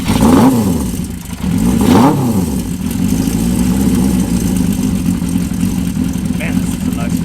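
An old motorbike engine runs while its carburettors are synchronised, revving up and dropping back twice in the opening seconds and then holding a steady, loud, close idle, with a voice talking over it.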